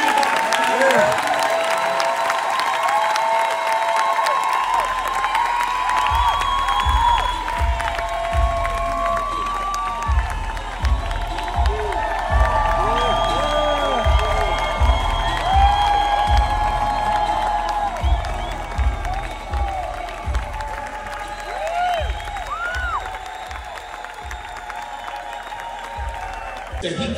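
A large congregation bursts into loud, sustained clapping and cheering at a church session, with whoops and shouts over dense, continuous applause that stays strong for the whole stretch.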